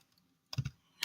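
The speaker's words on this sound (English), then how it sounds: "so just type in any project name." A few quick keystrokes on a computer keyboard while typing a project name in the Tynker coding app: a short cluster of taps, a pause, then one more close, crisp key press.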